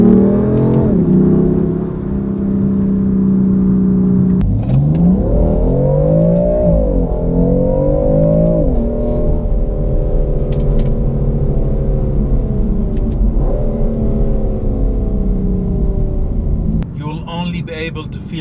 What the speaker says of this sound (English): Man, the fucking car loves to revs. This engine is really a power plant masterpiece.